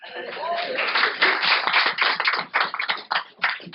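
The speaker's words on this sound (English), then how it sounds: "Applause. Give them applause." Workshop audience applause: a dense patter of many hands clapping, fairly loud and continuous, with a voice faintly mixed in.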